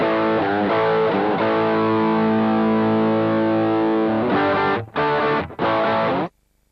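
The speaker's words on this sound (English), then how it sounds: "basically now I'm using the overdrive into a totally clean amp" A distorted bass guitar, overdriven through a Boss GT-10B into a clean amp model with an 8x12 cabinet, plays sustained gritty notes, then a few short choppy hits before cutting to silence.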